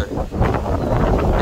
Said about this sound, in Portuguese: E tá ventando pra caramba.